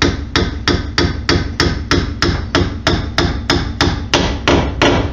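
Rapid, evenly spaced brass hammer taps on a differential shim of a Ford 8.8-inch rear axle, about a dozen strikes in a steady rhythm, close and fairly loud.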